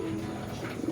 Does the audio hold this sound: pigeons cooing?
yes